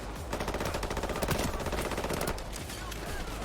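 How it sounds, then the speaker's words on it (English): A minigun firing in the game Payday 3, a sustained rattling stream of rapid shots, loud and close, holding steady for a few seconds before cutting off, with a faint voice underneath. "Oh yeah, the minigun."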